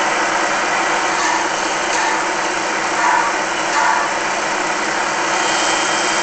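A locomotive engine runs steadily with a broad, even rumble and hiss, heard continuously at moderate loudness with no talking.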